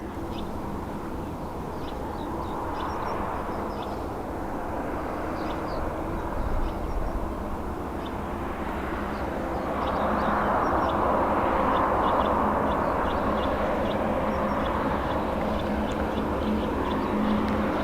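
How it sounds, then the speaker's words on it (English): A Ryanair airliner arriving from Verona at Dublin Airport produces a steady distant engine roar and rumble that swells gradually toward the end, heard outdoors with no talking. "So this is Ryanair in from Verona."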